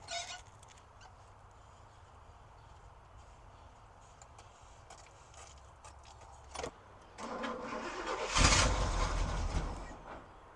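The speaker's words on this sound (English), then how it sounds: "It fired right up." Old Oldsmobile Cutlass that sat for years cranking, then its engine firing up and roaring loudly near the end, after quiet jangling of keys.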